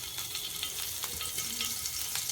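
Cumin seeds and dried and green chilies splutter and sizzle steadily in a little hot oil while tempering for ragi upma, a dense continuous crackle with scattered sharp pops, close and without talk.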